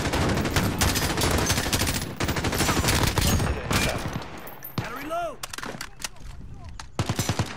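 Rapid machine gun fire in a Modern Warfare match, Pitch Black map, loud dense bursts rattling almost without pause for several seconds, a short lull with a brief voice, then a final sharp burst.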